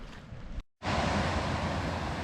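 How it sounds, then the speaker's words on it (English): Steady broadband roar of a waterfall in the Scottish countryside near Cortachy, loud and continuous, with a brief drop to near silence partway through before the rushing water returns at full strength. "I could not resist but to come down and take a look at this waterfall"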